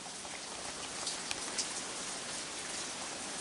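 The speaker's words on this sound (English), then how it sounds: "Get in out of the rain!" Heavy rain pours down steadily in a dense, even hiss, with a couple of brief louder drops standing out near the middle; no voices.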